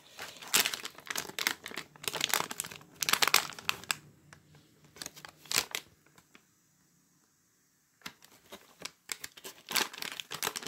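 Plastic crinkles and rustles in bursts, with a pause of near silence before more crackling handling of a US military MRE ration pouch's ziplock, close and fairly quiet.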